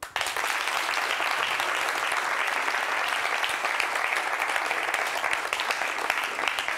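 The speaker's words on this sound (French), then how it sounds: "Je vais vous demander, chers amis du public, de vous applaudir vous-même." Studio audience at a televised debate show applauding themselves, a dense, even wash of clapping from many people sustained throughout at a moderate level.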